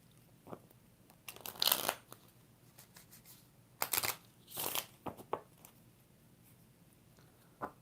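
A deck of tarot cards is shuffled by hand: several quiet, riffling bursts come close by, separated by short pauses in an otherwise hushed room.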